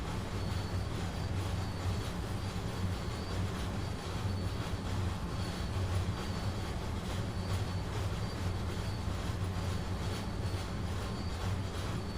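A locomotive on the Arosa line in the Train Sim World 2 video game rumbles steadily along the rails, with a continuous low roar and faint wheel noise throughout, and no one speaking.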